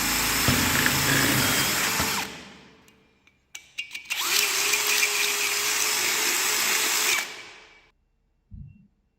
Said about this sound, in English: hand drill so that we can make a hole